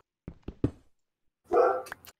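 Pet dog in a game's home stronghold gives three quick, short barks, then after a pause a longer, fuller bark-like yelp, moderately close with silence between.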